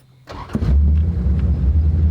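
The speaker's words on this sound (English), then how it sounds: "So let's take it for a spin. Starting up." An old car with a V8 and side pipes cranks and fires up, settling into a loud, deep, rumbling idle heard close by with no talking.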